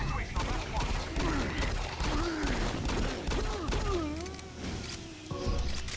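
Rapid bursts of gunfire from a Doom 3 BFG Edition firefight crackle in quick succession, layered over game effects and a voice talking throughout.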